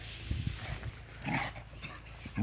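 Dogs in a forest garden during spring, giving a few short, fairly close barks and low growly yelps in irregular bursts over soft outdoor background noise.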